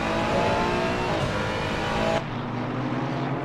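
Race cars in a PC racing sim at Valencia, engines droning loudly and continuously, then the tone abruptly dropping as the view shifts to a lower, steadier engine note, with no voices.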